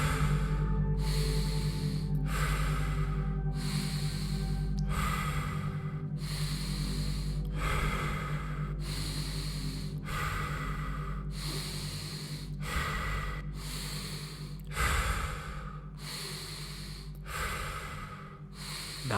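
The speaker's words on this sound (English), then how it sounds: "Inhaling through the belly, chest, and head, and exhaling." Deep circular breathing during a breathwork session, with loud, forceful inhales and exhales through the nose that come in a steady, unbroken rhythm of roughly one breath every two seconds, close up, with no pauses and no talking.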